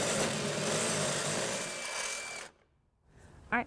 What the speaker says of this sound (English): we have upgraded to a bigger bit. So we're gonna go ahead and just enlarge this to be able to get our bolt through